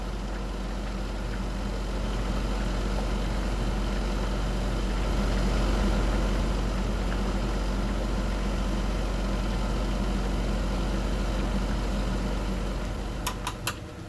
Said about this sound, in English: I'm going to turn my fan back up.